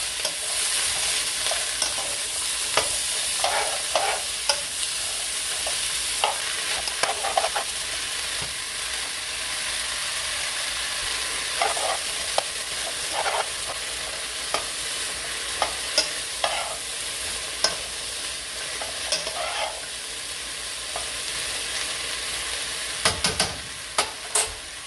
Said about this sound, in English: just stir it around for like a minute or two